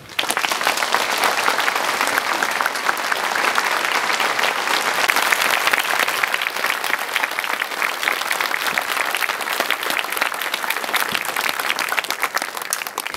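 A church audience breaks into steady, loud applause, dense clapping sustained for over ten seconds with no pause, filling a large hall.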